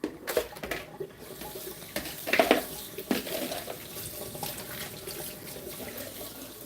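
Water runs steadily from a kitchen sink tap during a rinse, close and continuous, with splashing and brief clatters of hands or items under the stream.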